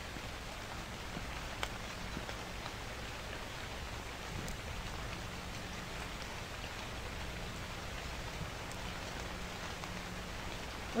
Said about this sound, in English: The rain's so loud